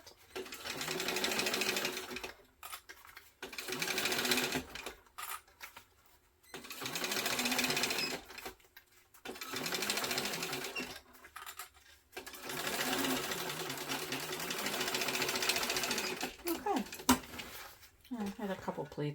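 A sewing machine stitches a backpack in repeated loud bursts of rapid whirring separated by short pauses, with a person talking in between runs.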